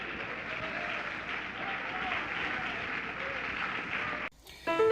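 A church congregation claps for Jesus in a steady, fairly soft wash of applause that carries on for several seconds, then cuts off abruptly, followed by a brief different sound.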